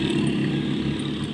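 Motorcycles passing along a village road in the morning, a steady loud engine drone close by, continuous with no gaps and no talk.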